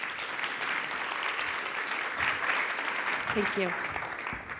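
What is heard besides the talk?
audience applause for Tracey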